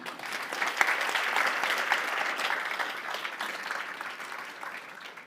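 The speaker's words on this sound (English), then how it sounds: "Round of applause for all of them." Steady audience applause at a donor-recognition event, a dense, even wash of many hands clapping at moderate distance that holds throughout without a break.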